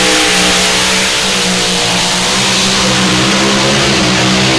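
Mini rod race car engine revs loud and close at a dirt-track modified racing event, a steady high-pitched roar with strong harmonic whine that rises and dips without a break.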